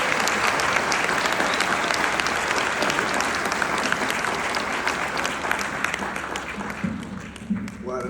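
An audience at a Berks Technical Institute commencement applauds to welcome the keynote speaker. The steady, loud clapping from a large crowd tapers near the end as a voice begins speaking.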